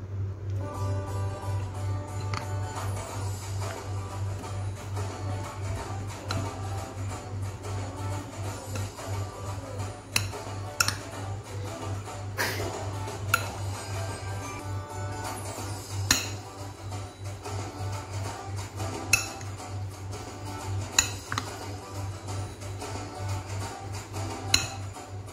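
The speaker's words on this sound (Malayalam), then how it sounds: "നമുക്കിതിനെ നന്നായി ഇളക്കി കൊടുക്കാം" A spoon stirs beef with ginger-garlic paste in a pan for Kerala-style nadan beef varattiyathu, giving steady scraping with scattered metallic clinks against the pan over a constant low hum.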